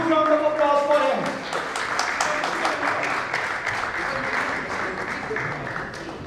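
A crowd applauds steadily and loudly throughout, with a voice speaking over the clapping at the start.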